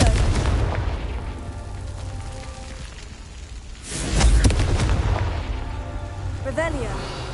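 Confringo fire spell exploding in Hogwarts Legacy gameplay, a deep booming blast midway over a rumbling game background, with a fainter whooshing burst near the end.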